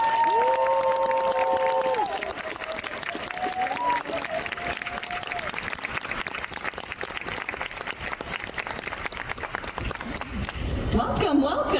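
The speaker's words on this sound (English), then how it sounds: "Please give a huge round of applause." A convention panel audience at San Diego Comic-Con greets a Toei Animation producer with a broad round of applause and some cheering, dense and continuous, while music and tones sound at the start and a voice briefly joins near the end.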